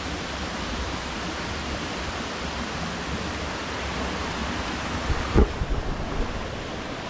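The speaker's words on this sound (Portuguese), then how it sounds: "Mais uma cachoeira conquistada com sucesso." Cachoeira da Janela waterfall in Santo Amaro pours with a steady, broad rushing roar, continuous and fairly close, with a brief bump or knock near the end.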